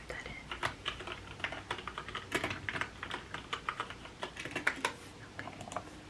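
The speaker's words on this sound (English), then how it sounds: "Alright, I'll type that in." Steady, brisk clicking of fingers on a computer keyboard in a quiet bookstore setting, close and soft, with irregular bursts of keystrokes and no speech over it.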